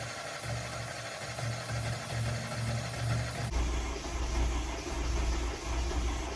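A Mercedes Sprinter 3.0 CRD diesel engine, previously hydrolocked, cranks on a new starter with a steady, droning whir that shifts to a deeper, heavier churn partway through, close and continuous, with no speech.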